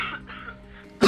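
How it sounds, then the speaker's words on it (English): A woman gives a single sharp cough right at the end, after a short stretch of quiet breathy throat noise. "this cough is really starting to worry me"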